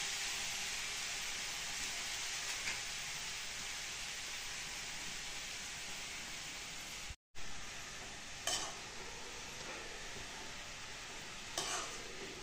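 Dill leaves cooking down in a wok, a steady loud sizzle and hiss with occasional stirring scrapes, broken by one brief dropout.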